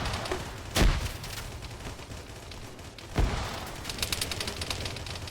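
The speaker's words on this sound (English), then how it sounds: "This guy with a grenade launcher firing up at him." Grenade launcher firing in Arma 3, two heavy thumping shots a couple of seconds apart, each a sharp boom trailing off, over a steady background of distant battle noise.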